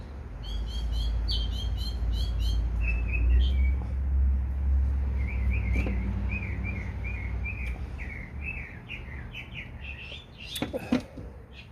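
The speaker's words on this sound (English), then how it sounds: "I'm listening to my little birdie sing." A small bird sings in short bright chirping phrases, clear at first and then repeating in quicker trills over a low steady background hum, with a sharper burst of calls near the end.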